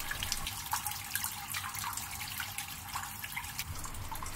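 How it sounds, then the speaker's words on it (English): Water from a garden hose runs steadily into the radiator of a Toyota Avanza during a coolant flush, a continuous hissing, splashing flow close by with no talk over it. "Using a common garden hose, just start filling up the radiator."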